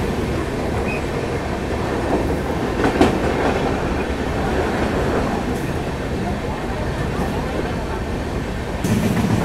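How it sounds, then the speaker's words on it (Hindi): A double-decker passenger train running from Delhi toward Lucknow, a steady loud rumble of wheels on rails with a faint clickety-clack, heard from inside the carriage, continuous throughout with no one speaking. "रामपुर जंक्शन को स्किप करती हुई हमारी ट्रेन"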